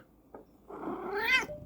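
A house cat gives a short chirp, then a drawn-out rising meow, close and fairly quiet against a hushed room.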